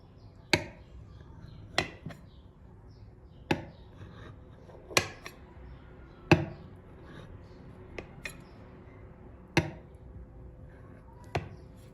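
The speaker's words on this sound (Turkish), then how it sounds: "Şöyle üçgen şekilde kesiyorum arkadaşlar." A knife slices a custard-filled cake into triangular pieces, giving about nine sharp, separate taps against the board at irregular intervals, each clear and close over a quiet background.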